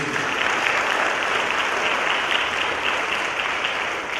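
Audience at a school district advisory council meeting applauds the leadership team, a dense, steady round of clapping from many people lasting the whole stretch at even loudness.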